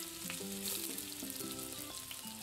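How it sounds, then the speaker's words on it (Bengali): Bitter gourd pieces fry in hot oil in a pan, a steady close sizzle with soft crackling that carries on without pause and without talk. "উচ্ছেটাকে লাল করে ভেজে নেব।"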